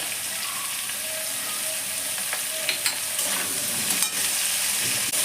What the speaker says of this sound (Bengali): খুব ভালো করে উপর নিচ করে নেড়ে নিয়ে